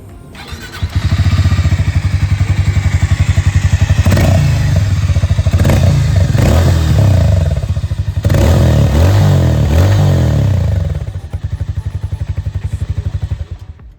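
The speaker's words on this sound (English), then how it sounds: "before we ride this bike, let's quickly check out the exhaust mode" Harley-Davidson X440T motorcycle idling close by, then blipped through several sharp throttle revs with a thumping exhaust before settling back to a lumpy idle, loud and with no voices.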